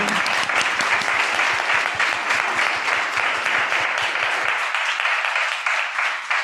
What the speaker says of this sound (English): give one more round of applause for Katherine McKittrick today